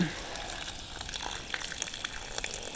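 Muddy water gushes from a tap after a pipe break, a steady hiss of rushing water with small splashes and gurgles running throughout at moderate loudness.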